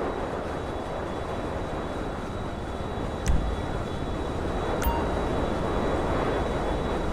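Airplane flying in Grand Theft Auto 5, a steady, fairly quiet engine drone that holds throughout, with a couple of brief clinks on top and no speech.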